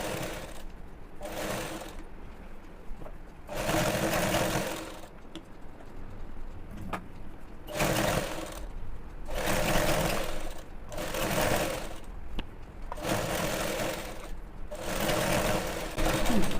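Sewing machine stitching a trouser seam, running in repeated bursts of steady rapid mechanical whirring and clatter, close and fairly loud, with short pauses between runs.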